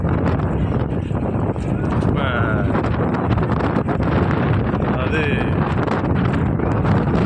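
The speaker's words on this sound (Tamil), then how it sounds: "செம காற்று." Strong gusting wind at the Kanyakumari bridge by the sea, a loud continuous roar buffeting the microphone while people talk over it.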